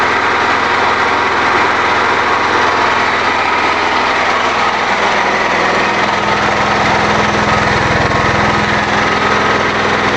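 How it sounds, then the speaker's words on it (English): A new small gasoline engine runs steadily at a constant speed, a loud, continuous buzzing drone close by with no pauses or voices. "It runs very well, but it's really hard to start for some reason."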